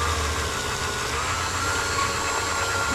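A polishing machine hums at a steady whine while polishing a grade 5 titanium ring, a constant close mechanical drone without talk.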